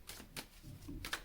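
Two decks of tarot cards are shuffled, giving quick, faint papery riffles and flicks in a few short bursts, quiet and close.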